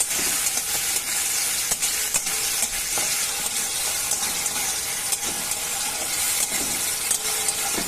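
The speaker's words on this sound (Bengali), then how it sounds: "তেলটা গরম হয়ে গেছে, চিংড়ি মাছগুলো ওর মধ্যে দিয়ে দিচ্ছি।" Prawns dropped into hot oil alongside ash gourd, a loud dense sizzle and crackle throughout with rhythmic stirring clatter, close up and with no talking.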